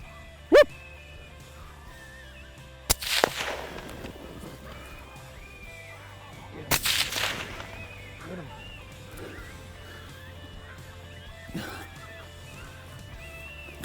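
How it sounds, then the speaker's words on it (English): Two sharp rifle cracks ring out several seconds apart during a coyote hunt in sub-zero South Dakota cold, each followed by a brief echoing tail, amid quiet surroundings with faint animal calls. "he makes a great shot and kills his first coyote ever"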